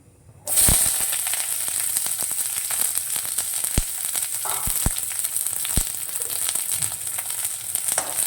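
A loud, steady sizzle of onion and garlic frying in oil bursts in suddenly and continues, with a few sharp clinks and stirs along the way.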